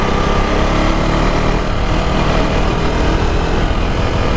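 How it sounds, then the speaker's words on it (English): A KTM RC390 motorcycle engine roars continuously and loudly as the back wheel spins out, a dense, steady mechanical drone mixed with rushing wind noise and no talking. "Ooh, back wheel spinning out."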